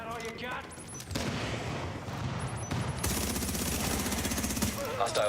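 Automated turrets in The Division 2 fire in dense, sustained rapid bursts, loud and nearly continuous, with brief tonal game cues at the edges.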